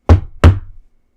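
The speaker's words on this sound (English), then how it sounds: "and knocked twice on the floor." Two sharp knocks on a wooden floor, close and loud, spaced about a third of a second apart, each with a short resonant thud that dies away quickly, in an old mansion.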